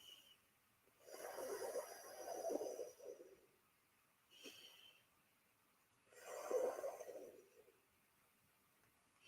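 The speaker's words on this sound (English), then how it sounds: "breathing in for your tongue and out for your nose" Slow, deep breathing, in through a curled tongue and out through the nose, giving two long airy breaths with a short sniff between them, close and quiet.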